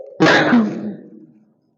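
A single close throat-clearing cough, a sudden rough burst that fades over about a second, heard alone.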